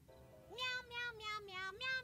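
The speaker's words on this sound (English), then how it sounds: "Evil kitty cat." A cartoon cat in an episode of Futurama gives a series of four or five drawn-out, wavering meows, loud and close, with no talk over them.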